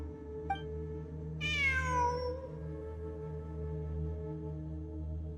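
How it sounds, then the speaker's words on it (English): Cat meowing in Genshin Impact, one clear drawn-out meow that rises then trails off, heard close over a steady low background hum with no talk. "I'm not hearing things. It really is a cat."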